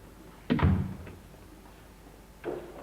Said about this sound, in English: Come in here and shut the door.